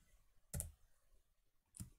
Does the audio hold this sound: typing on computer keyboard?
yes